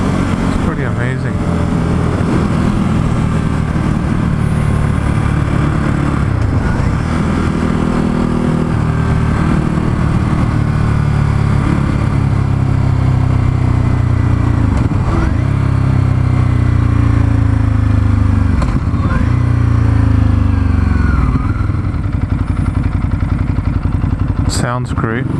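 A Ducati Hypermotard motorcycle engine drones loudly and steadily while riding, its pitch rising and falling through gear changes, with wind rush throughout.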